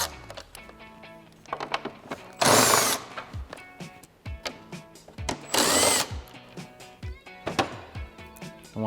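A cordless power tool with a 7 mm socket backs out turn signal screws on a 2018-2022 Mustang, giving two short, loud whirring bursts up close. Clicks and clatter of handling fall between the bursts.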